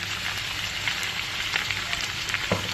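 Sliced vegetables frying in vegetable oil for fajitas, a steady dense sizzle and crackle from the pan close by, loud and continuous with a few brighter pops.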